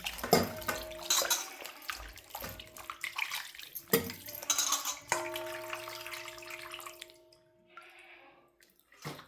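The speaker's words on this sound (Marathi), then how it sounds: "ते आता आपण स्वच्छ पाण्याने धुवून घेऊया दोन तीन वेळेस" Water splashes and sloshes in bursts as fresh goat mutton is rinsed in a bowl, with dripping and a few tonal clinks, fading quieter near the end.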